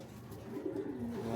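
A racing pigeon coos softly after returning home from a derby lap, a low, close, rolling coo building over about a second with no talk.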